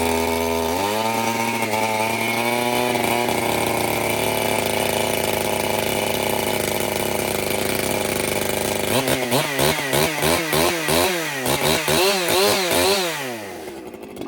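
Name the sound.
ECHO chainsaw engine starting and running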